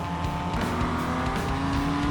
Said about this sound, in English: Coming through turn 9, the second place BMW slams to the back of the 98, sending him wide.